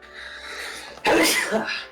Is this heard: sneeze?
yes